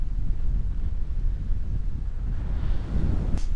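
Strong wind off the Baltic Sea at Klaipėda, Lithuania, buffeting the microphone with a deep, continuous rumble, loud and unbroken throughout, no voices.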